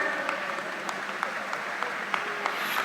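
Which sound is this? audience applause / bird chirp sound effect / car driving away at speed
audience applause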